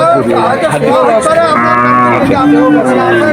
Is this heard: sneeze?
no